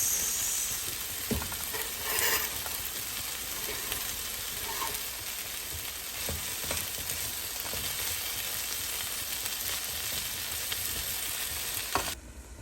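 Carrots being stirred into a vegetable mixture frying in a pan for eggplant cutlets, with a steady close sizzle and a few soft scraping stirs, no talking.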